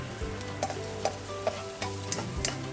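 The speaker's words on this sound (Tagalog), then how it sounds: "Then, lagay na rin natin yung niluto nating cauliflower." Cooked chicken and cauliflower being stirred in a pan, with a steady sizzle underneath and a few soft utensil scrapes and taps recurring at irregular intervals, close and moderately loud, no talking.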